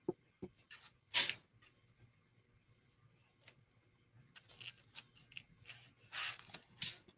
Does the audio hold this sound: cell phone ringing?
no